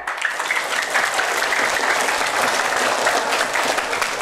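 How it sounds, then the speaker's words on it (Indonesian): Applause fills a Maulid celebration at a madrasa as students and audience clap together, a dense, even wash of many hands sustained throughout at moderate loudness, with no speech over it. "Tepuk tangan."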